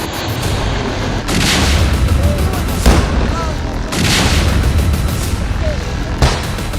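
Repeated heavy booms from army bombardment during an encounter in Anantnag, roughly four blasts spaced a second or two apart over continuous rumbling noise, loud and close.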